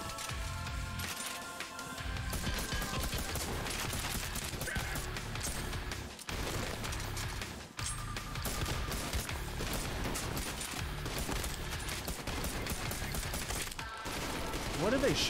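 Dense, sustained bursts of gunfire and crashing impacts from a video game demo, loud and near, running almost continuously with brief gaps, while a player talks faintly over it.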